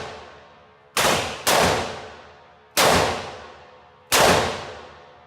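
AK-47 rifle shots fired outdoors come as four loud, sharp cracks, each with a long ringing decay and an uneven gap between shots, and no talking over them.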